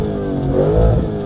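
A car engine revs hard as the throttle is pushed further, a steady loud mechanical roar building slightly in the middle, with harmonic engine drone throughout and no talking.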